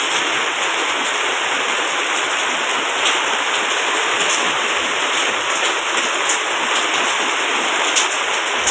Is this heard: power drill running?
no